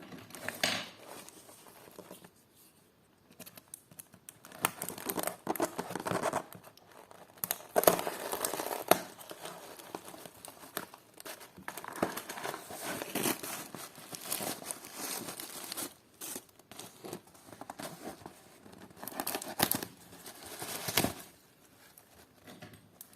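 A tape-wrapped parcel of vintage jewelry is being unpacked, with close, irregular crinkling of plastic and paper packaging and occasional tearing and rustling bursts, quiet overall and with no talking.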